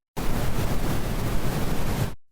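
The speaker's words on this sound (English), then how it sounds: "brown noise" Brown noise plays as a deep, rumbling wash, heavier and darker than a hiss, holding steady for about two seconds before tapering away.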